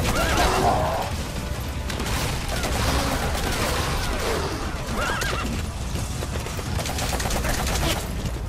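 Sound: horse neighing in the video game Metal Gear Solid V

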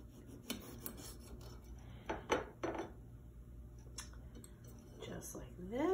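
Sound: knife cutting a tomato

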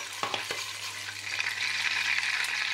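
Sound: butter with red chili powder sizzling in a pan

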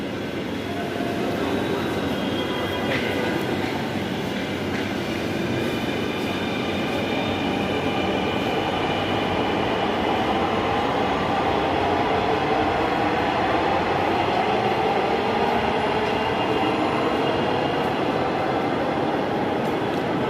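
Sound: metro train running

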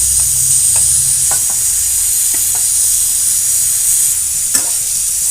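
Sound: frying spring onions with small fish and eggplant in pan

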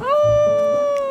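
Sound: person imitating an animal howl

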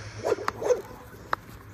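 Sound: husky dog barking and whimpering

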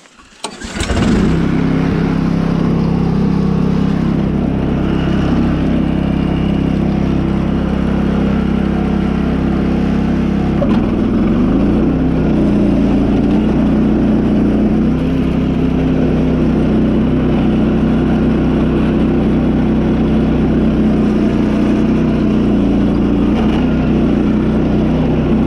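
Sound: mud mower engine revving

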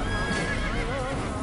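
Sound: horse neighing in a video game

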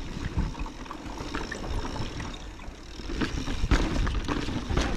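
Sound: mountain bike riding over rocks

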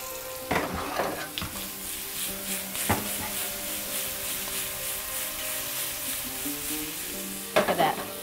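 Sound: shrimp frying with curry leaves in a pan

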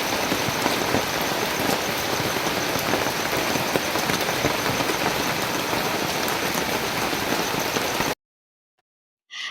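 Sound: rain falling

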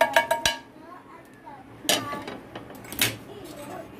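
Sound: roasted spices being transferred onto a plate, dishes clinking

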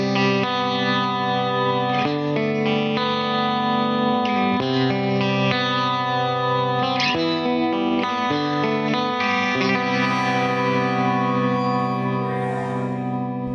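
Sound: Rickenbacker electric guitar with compressor

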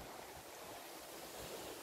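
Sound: strong wind at night on Giglio island

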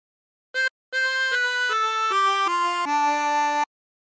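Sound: chromatic harmonica playing a song phrase

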